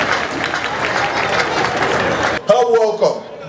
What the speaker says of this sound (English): why not celebrate Jesus with a round of applause?